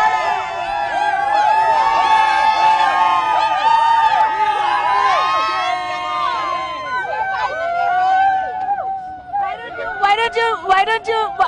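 A crowd celebrating a court judgment at Town Hall, a dense babble of excited voices and shouts close by, with people talking throughout and bursts of cheering near the end.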